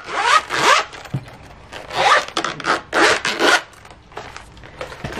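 A pencil case zipper is pulled shut in several quick, rasping strokes with short pauses between them, close and loud with no talking.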